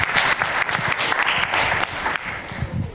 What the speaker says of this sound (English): One more time, let's give a round of applause to Professor Stunham.